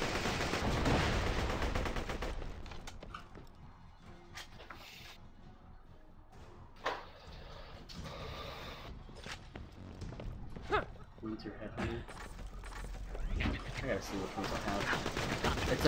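Turret gunfire in a video game rattles in rapid bursts, loud and sustained over a busy mix of game noise, with a player's voice talking over it.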